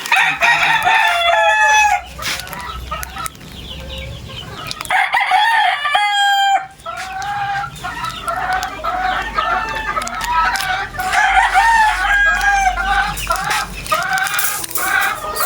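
Gamefowl roosters in breeding pens, several birds crowing and clucking almost continuously, loud and close with overlapping calls and brief pauses.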